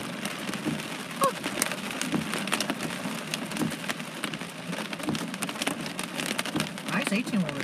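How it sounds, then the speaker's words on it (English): Heavy rain pours down during a thunderstorm in Los Angeles, a dense steady hiss broken by sharp drop impacts, with occasional faint voices underneath. "It's heavy rain."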